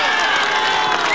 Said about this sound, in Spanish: todavía no aplaudan